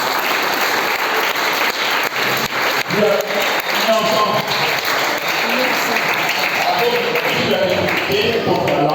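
A church congregation applauds and cheers together, a steady wash of clapping with voices mixed through it throughout.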